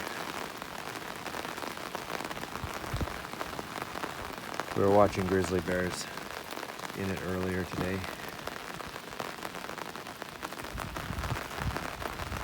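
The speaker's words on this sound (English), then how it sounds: "it's been raining buckets for hours" Steady heavy rain hisses throughout in Sitka, with a person speaking briefly partway through.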